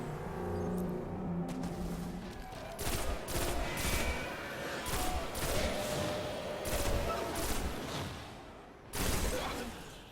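Bursts of rapid gunfire from the shooter video game Destiny, a dense volley of shots firing repeatedly over several seconds, loud and close, with a sharper burst near the end.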